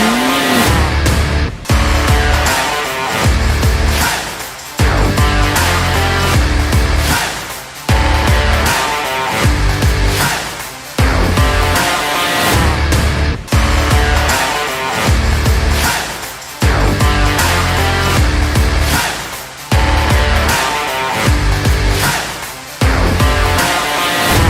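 A race car drives fast around a track, its engine roaring loud and continuous with repeated surges as it revs and shifts, an occasional brief drop between bursts, and no one talking.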